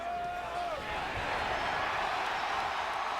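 A stadium crowd in Missoula roars after a tying field goal at a college football game between Appalachian State and Montana. The broad, distant-sounding roar builds and holds as a steady wash of noise.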